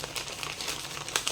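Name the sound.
thin paper crinkling after being dyed with coffee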